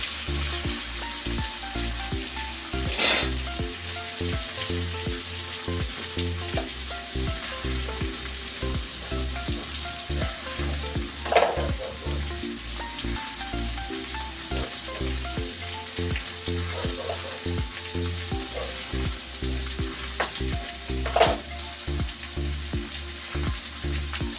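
Spare ribs frying in a pan for humba, a steady close sizzle and crackle throughout with occasional louder spits and stirring clatter.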